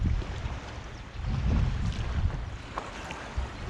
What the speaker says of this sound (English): still paddling, working my way up to Gurnard down the Solent